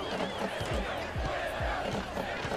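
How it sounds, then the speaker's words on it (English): Simulated arena crowd noise from the basketball video game NBA 2K16, a steady roar of cheering with rhythmic low thumps like a dribbled ball, continuous throughout the short stretch. "Now we got some real crowd action going on."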